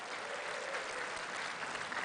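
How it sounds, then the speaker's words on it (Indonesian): Audience applause at a gubernatorial election debate in Jakarta, a brief dense wash of clapping at steady moderate loudness with no speech over it. "kita tepuk tangan untuk ronde pertama,"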